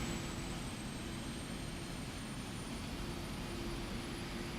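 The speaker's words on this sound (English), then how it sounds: "The sounds of this airplane are ridiculous" A PMDG 777-300ER jet engine spools up in Microsoft Flight Simulator, a steady, loud, continuous roar with a low rumble, a mid-frequency hum and a faint high whine holding for the whole stretch, with no talk.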